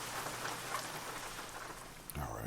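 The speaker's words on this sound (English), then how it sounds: "So now that it has started raining here" Steady rain in the American Truck Simulator video game, a dense wash of drops that continues throughout, with a brief thud and a change in the sound near the end.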